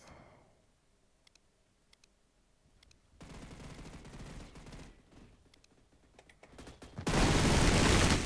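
An AA-12 automatic shotgun fires in a video game: a few soft clicks, then two sustained bursts of rapid, loud gunfire, the second louder and denser. No one speaks.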